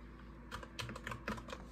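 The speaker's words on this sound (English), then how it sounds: "I played on the keyboard" Keystrokes on a Ducky MIYA Pro Panda mechanical keyboard, a quick irregular run of clacks close by, with a steady background hum.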